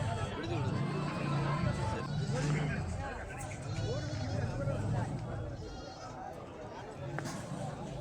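Goats bleat repeatedly at a busy outdoor goat market in Mukkoodal, their cries rising over a steady background of crowd chatter and people talking.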